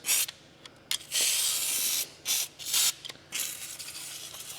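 Parts being unbolted on a 1944 Cleveland two-stroke generator: bursts of ratcheting wrench clicks and metallic scraping in short separated runs, close and fairly loud, with quiet pauses between.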